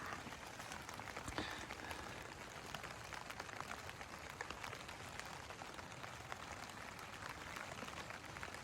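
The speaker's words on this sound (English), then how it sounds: "It's absolutely lashing down outside." Heavy rain lashes down outside a tent during wild camping in gusty winds, a dense, steady patter drumming on the surface for the whole stretch, fairly faint and without talk.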